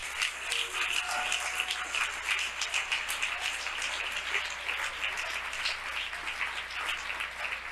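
A congregation claps together in sustained applause for the Lord during a church service, a steady patter of many hands heard from some distance, continuing evenly without pause.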